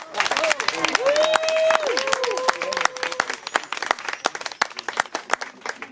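An audience at a slam poetry evening in Vence claps steadily, with dense, fairly loud applause running throughout while voices talk over it.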